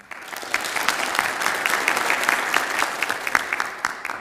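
An audience claps in warm, steady applause for Dušan Gamser, many hands close together throughout with individual claps standing out.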